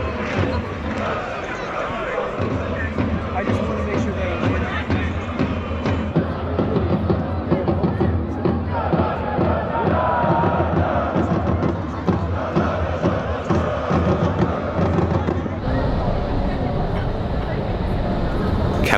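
Football supporters crowd the stands at a Dinamo Zagreb match in Maksimir Stadium under floodlights, a dense, continuous roar of chanting and cheering that holds steady throughout, with a shift in tone near the end.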